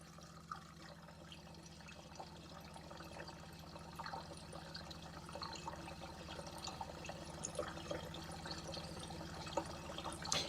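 Fresh water runs steadily through the hot water system of a VW T4 camper van, giving a faint, continuous hiss and trickle with no voices.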